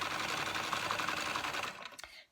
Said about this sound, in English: I'm just going to sew round nearly the whole thing